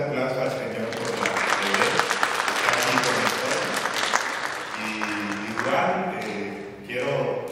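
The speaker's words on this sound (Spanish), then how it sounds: "Démosle un fuerte aplauso al Señor" A church congregation at a Spanish-language Baptist service claps in loud, sustained applause that swells and fades, with voices talking over it.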